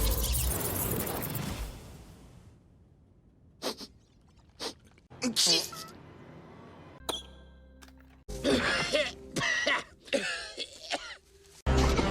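Coughs and throat clearing from movie scenes come in separate bursts, some sharp and loud, others short and muffled, between stretches of film dialogue and background sound.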